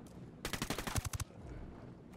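A short automatic burst of gunfire in the shooter game Ghost Recon Wildlands, roughly ten rapid loud shots packed into under a second, rising to its sharpest cracks at the end before dropping to quiet background.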